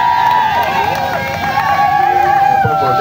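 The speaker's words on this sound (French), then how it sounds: "On applaudit très fort." Wedding guests cheering and applauding during a marriage ceremony, a loud, continuous crowd noise with voices and a sustained tone over it, with speech mixed in.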